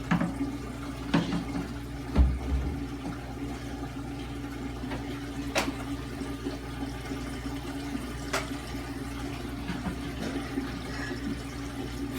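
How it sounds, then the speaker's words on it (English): Aquarium water siphoning through a hose into a 5-gallon jug during a saltwater tank water change, a steady low trickling flow with a faint hum underneath and a few soft clicks and knocks. "Fill your siphon with water, let gravity take it down, then you put it in, then you lift it up, and it just continues to flow"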